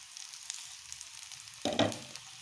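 Ginger, garlic and green chilli frying in a pan, a soft steady sizzle that flares into a louder burst of spitting oil for a moment before settling back to a quiet crackle.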